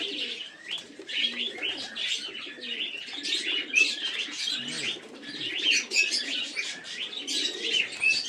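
Pigeons in a loft scuffling and cooing: continuous low throaty coos beneath busy chirps and brief wing flaps, close and fairly loud, with no speech.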